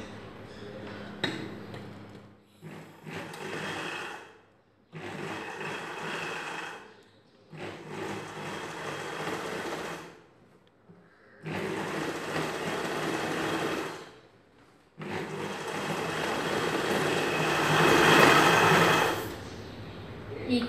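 A sewing machine stitches the seams of a princess cut blouse in several bursts of steady whirring, each a few seconds long, separated by short pauses as the fabric is repositioned.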